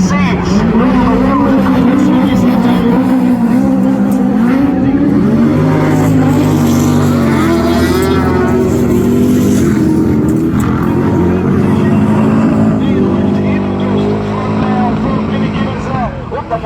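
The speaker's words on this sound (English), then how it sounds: "Side Seagraves is just leading, closing now by 2 or 3 car lengths" Class 10 autograss race cars at the Men's Autograss Nationals roar around a dirt track, with engines droning and rising continuously and loudly beneath a race commentator's running voice.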